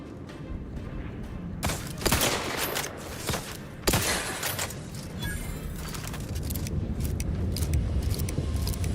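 Rifle fire in The Outer Worlds 2, with a few sharp, loud shots spaced out at irregular intervals over a steady game backdrop.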